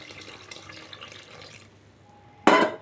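Tamarind extract is poured into a pan of bottle gourd pieces: a soft liquid trickle and sizzle gives way to a short, louder splashing gush near the end, heard up close with no talking.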